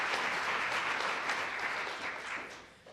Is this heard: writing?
no